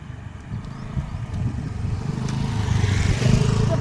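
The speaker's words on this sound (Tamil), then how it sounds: "அதோ ஒரு வண்டி வருது." A vehicle approaches along a road, its engine rumble growing steadily louder from a distance over a few seconds amid outdoor background noise.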